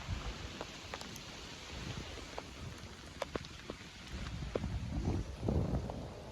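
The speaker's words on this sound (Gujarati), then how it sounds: "વરસાદ પણ ધોકાર ફૂલ આવ્યો છે" Steady heavy monsoon rain pours down over a waterlogged farm field with a broad hiss, scattered sharper drops, and low wind rumble swelling toward the end; no voices.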